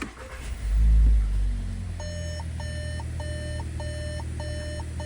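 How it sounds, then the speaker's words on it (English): A Volkswagen Taos sounds a repeating electronic beep, a steady series of short chirps at regular intervals, after a low rumble at the start, with the key fob held to the key icon to switch the ignition on. "it'll start beeping and it turns the ignition to the on position"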